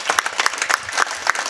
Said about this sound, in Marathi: वाजवा एकदा टाळी होऊन जाऊ द्या.